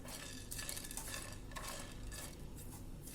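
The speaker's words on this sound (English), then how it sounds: "Make sure you're roasted on a very low flame so that it doesn't get burnt" Whole spices (cloves, peppercorns, star anise and cinnamon) being dry roasted in a pan over a low flame, a faint steady rustle and scrape of spices shifting against the metal.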